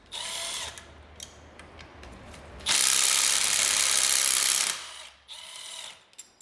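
A ratchet loosening a 12 mm bolt on a Honda B-series manual transmission bracket, with a short rapid clicking burst, then a loud sustained two-second whir of spinning, close up with no voices.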